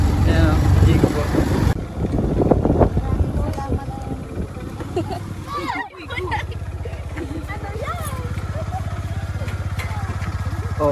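A motorcycle rides along a rural village road with its engine droning steadily up close after a burst of louder noise at the start, while voices chatter faintly in the background.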